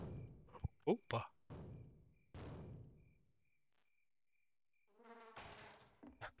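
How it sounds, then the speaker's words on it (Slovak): A fly buzzes in a co-op horror video game, a thin wavering whine near the end, between short bursts of players talking and game noises. "Dal som počuť muchu."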